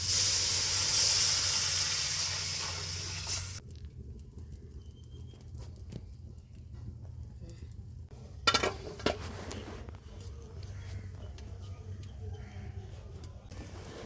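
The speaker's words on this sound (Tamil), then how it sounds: "எல்லாம் வதங்கிட்டு இப்போ தாளிச்சு ஊற்றிக்கலாம்" Tempering splashed into a simmering South Indian curry in a home kitchen gives a loud, hissing sizzle for a few seconds. It then settles into quieter bubbling with a couple of pot and utensil clinks.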